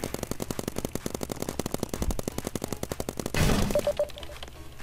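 An AK-47 fires in a Roblox paintball video game, a rapid, even burst of sharp automatic shots that runs most of the way before ending in a louder blast and a few soft tones.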